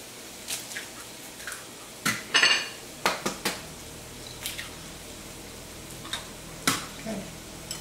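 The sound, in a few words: cracking open eggs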